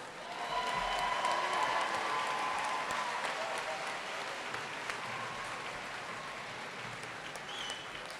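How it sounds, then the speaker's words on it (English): A large audience at a 2014 university commencement ceremony applauds in a sustained, dense round of clapping with scattered cheers. It rises quickly and holds steady for the full stretch before easing slightly. "let's give them another round of applause"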